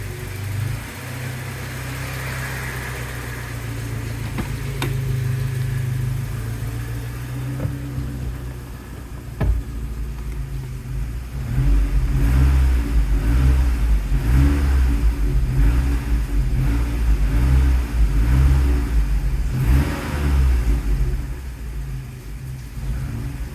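A 1988 Saab 900 SPG engine starting cold, settling into a low idle rumble, then revved repeatedly in rising and falling bursts, close and loud with no talking.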